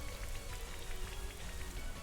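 Rain from the Rain Dance move in the Pokemon VGC22 battle game hisses steadily across the whole stretch, a dense, even patter of drops on a surface with no voices.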